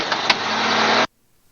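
Robinson R44 helicopter engine running loud and steady, rising toward full power, then cutting off abruptly after about a second to near silence.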